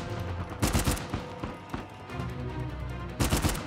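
Rapid triple-shot bursts of gunfire from a weapon in the action game Uncharted 4, with several clusters of sharp cracks over a steady background of game ambience and music.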